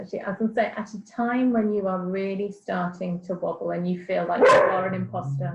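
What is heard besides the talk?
dog barking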